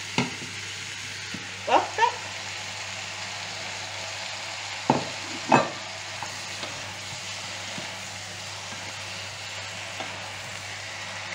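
Venison meat frying in a pan gives a steady, close sizzle throughout, broken by a few sharp scraping knocks of a utensil stirring the pieces; a brief word is spoken once.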